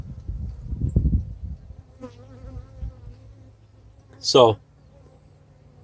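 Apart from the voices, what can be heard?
swarm of bees in an opened hive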